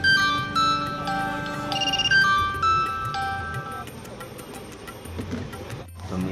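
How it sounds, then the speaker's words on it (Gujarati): A phone alarm keeps ringing in repeated electronic melodic tone patterns, fairly clear and close, with some background noise and a brief dropout near the end. "અને અલાર્મ હજુ ચાલુ જ છે."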